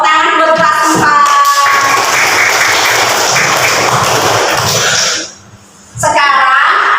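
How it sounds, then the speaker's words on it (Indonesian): A fourth-grade class claps together in a classroom, a dense burst of applause lasting a few seconds, with a teacher's voice just before and after. "tepuk tangan buat kelas 4"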